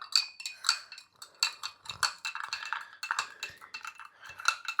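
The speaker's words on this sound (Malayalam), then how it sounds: "നല്ലോണം ഇളകണം ഗൈസ്." A spoon stirs hazelnut drinking chocolate with sugar in a cup, clinking steadily against the sides in a quick, irregular rhythm of close, bright taps with no voice.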